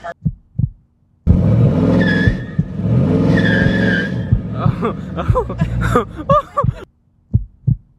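A car doing a burnout, its engine revving hard as the tires spin and squeal loudly for several seconds, then cutting to short bursts of engine and tire noise.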